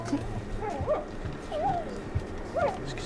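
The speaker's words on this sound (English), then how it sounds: "I can hear howling." A small dog howling in rising and falling whines, with three short wavering cries spaced across about three seconds, moderately near, over a low background hum with faint thumps.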